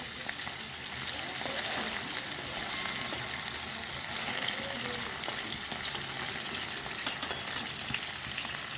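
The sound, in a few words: paneer frying in pan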